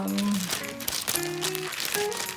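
Paper is crumpled and crinkled by hand while wrapping mini succulents as a gift, giving a continuous close rustle under faint background music tones.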